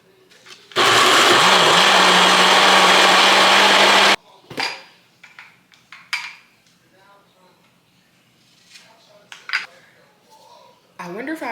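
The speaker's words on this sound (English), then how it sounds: "I'm gonna plug my blender in over here." A kitchen blender whirring loudly as it blends ginger and water for sorrel, a steady roar for about three seconds before stopping, followed by sporadic clinks, bumps and brief talking.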